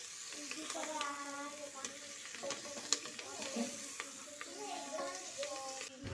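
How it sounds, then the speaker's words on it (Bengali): Turmeric and cumin powder are mixed into vegetables frying for a vegetarian khichuri: a soft sizzle runs throughout, with scraping stirs and light clinks, and a voice is heard faintly in the background. "হলুদ আর জিরে গুঁড়োটা দিয়ে একবার ভালো করে মিশিয়ে নিচ্ছি।"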